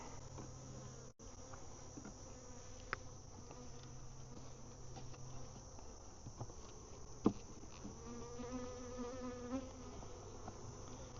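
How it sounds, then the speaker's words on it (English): Honey bees buzz steadily around a hive being taken down, a continuous, fairly close droning hum with occasional louder passes and faint handling clicks, no talking. "I'll probably just shake the bees off."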